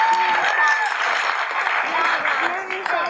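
An audience claps at a school's end-of-year performance, giving steady, dense applause from many hands throughout, close and loud.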